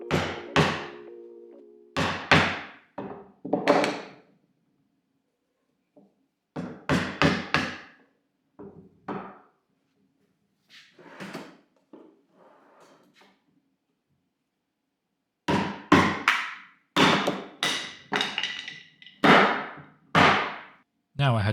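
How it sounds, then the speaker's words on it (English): A mallet strikes chisels to tap apart two glued walnut boards, sharp close knocks in irregular clusters separated by a long quiet stretch, with faint scraping in between. "So I had to tap these two apart with a mallet and a couple chisels."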